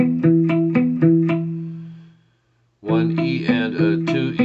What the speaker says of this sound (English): This is all palm muted.